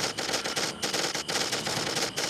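A Gatling gun firing in the mobile shooter The Respawnables, a loud, continuous rapid rattle of shots with slight pulsing gaps, alone without talk.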